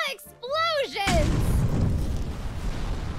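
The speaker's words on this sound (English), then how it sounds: "Explosions!" In the video game Regalia, a short synthetic whoosh gives way to a loud, sustained rumbling blast of explosions that keeps roaring for a couple of seconds.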